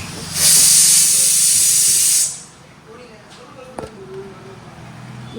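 Dried red chilies and bay leaves hit hot oil with a loud, bright sizzle for about two seconds, then settle into a quiet crackle, with a voice speaking briefly afterward.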